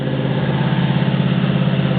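A 1974 Buick Regal sedan's 350 four-barrel V8 idles steadily right after a fuel pump replacement, a loud, close, even low rumble with a constant throbbing pulse and no voices.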